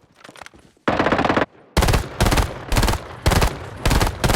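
Loud bursts of rapid automatic gunfire in a video game come in several sustained volleys separated by brief pauses, close and harsh.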